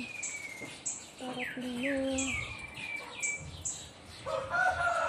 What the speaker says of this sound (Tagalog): Ang mga ibon, nag-iingay-ingay.